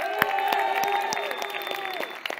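Audience applause at a live comedy show, a steady wash of clapping with sharp individual claps standing out, sustained throughout at moderate loudness.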